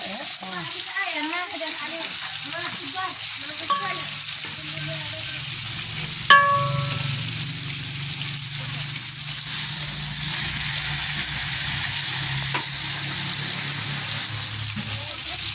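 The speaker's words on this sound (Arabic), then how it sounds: "تشوح كده البصلة لحد ما تحمر" Onion sautés in a hot pan on a home kitchen stove, giving a steady, dense sizzle and hiss throughout, with brief clatter and voices talking early on.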